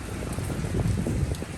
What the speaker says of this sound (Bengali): এখন বৃষ্টির জন্য কীভাবে যাব দাঁড়িয়ে আছি